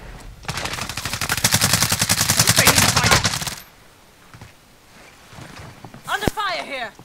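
Heavy automatic gunfire in Call of Duty Modern Warfare (2019), a loud sustained burst of rapid shots for about three seconds, then quieter battlefield noise with voices and a sharp blast near the end.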